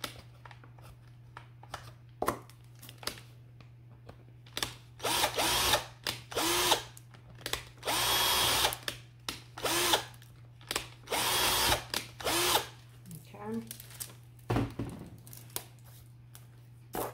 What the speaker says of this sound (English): Taking my drill, cleaning up the hose.